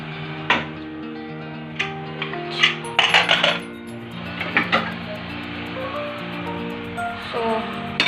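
A pressure cooker is pulled out among kitchen pots, producing a run of sharp metallic clanks and ringing clatters, some resonant tones lingering between knocks, close by.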